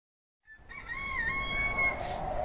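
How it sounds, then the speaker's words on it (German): A rooster crows in the farm-management video game Bear & Breakfast, one drawn-out cock-a-doodle-doo that begins after a brief silence and rings clearly for about two seconds. "Ja, da kräht auch schon der Hahn."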